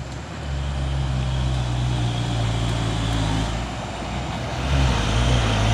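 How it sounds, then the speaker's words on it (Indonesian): Two box trucks rolling past on a road at dusk during the holiday homecoming traffic, a steady low engine drone and tire roar that swells slightly near the end, with no talk. "Masuk lagi 2 unit truk box."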